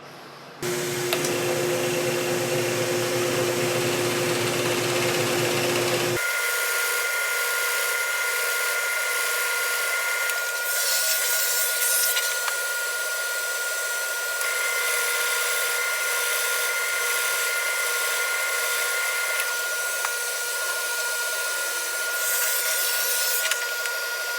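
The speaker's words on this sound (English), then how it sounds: "So now let's drill." A power drill whines steadily and loudly for a long stretch drilling holes in a disc, its pitch shifting slightly as it bites through material, with no talking.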